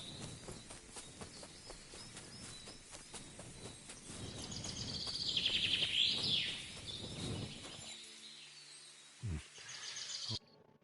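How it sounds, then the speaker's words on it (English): A loud bird call in Kingdom Come: Deliverance 2, a bright chirping call that rises in the middle, over soft footsteps and outdoor ambience. It cuts off near the end. "That bird is loud."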